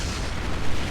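Heavy, continuous explosions rumble and burst through the final boss fight of the PS1 game Metal Gear Solid, a dense, loud wall of blasts with no pauses.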